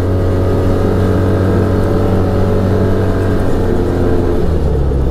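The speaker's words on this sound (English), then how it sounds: "Even pushing this thing at, you know, 25-30 through these trails, it does ride nice." An Arctic Cat Wildcat Trail XT side-by-side runs along dirt trails at around 25 to 30 mph, its engine droning loud and steady with a dense low hum close by that shifts slightly in pitch near the end.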